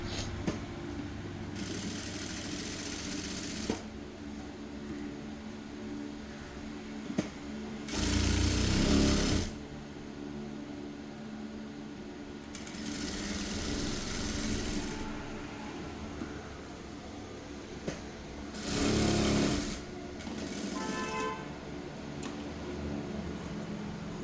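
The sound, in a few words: sewing machine stitching a lining blouse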